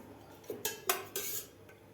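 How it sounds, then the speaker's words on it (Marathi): A few sharp metallic clanks as a wide, flat-bottomed pan is set down on the stove, then quiet. "अशा प्रकारे एक पॅन ठेवलेला आहे।"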